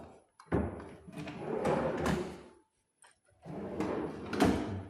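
Kitchen drawers used for storing plates slide open and shut in a few bursts, with rattling and soft thuds from the wooden runners, close by and fairly loud. There is no talking.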